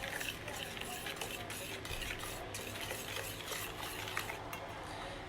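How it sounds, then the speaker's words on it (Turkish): A melted butter and chocolate mixture being stirred into a brownie batter in a bowl, steady soft scraping and sloshing strokes close by, fairly quiet and continuous. "daha önceden hazırladığım tereyağı ve çikolata karışımını ılındıktan sonra içine ilave edip karıştıracağım"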